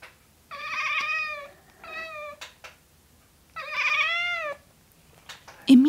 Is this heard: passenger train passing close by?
no